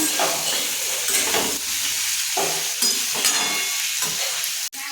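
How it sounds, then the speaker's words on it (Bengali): Food fries in a pan to a deep brown, a close sizzling hiss broken by repeated stirring scrapes and a sharp clank near the end. "ভালো করে লাল লাল করে ভেজে নেব"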